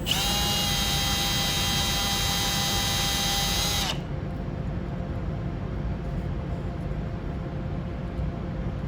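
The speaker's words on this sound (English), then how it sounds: "Drill out the support." A power drill whines steadily at high speed for about four seconds, then cuts off, leaving a low background hum.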